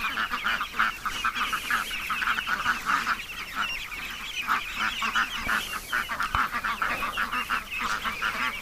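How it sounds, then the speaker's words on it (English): Adult and teenage ducks on a lake give a steady run of loud, close honking quacks, overlapping calls repeating in quick irregular bursts throughout. "we've got a lot of adult ducks and teenage ducks in front of us"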